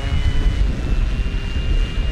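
Wind blows steadily across the microphone at a grassy RC model airfield, a constant low roaring rumble with a faint high whine behind it.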